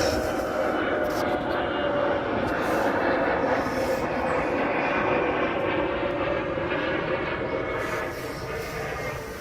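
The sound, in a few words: airplane flying over near Glasgow Airport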